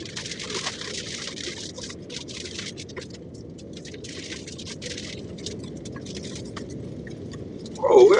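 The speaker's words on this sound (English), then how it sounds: "Oh, where all this goddamn rain coming from?" Heavy monsoon-like rain pelting a car while driving, a dense, steady patter and drumming that runs throughout and swells with a louder burst right at the end.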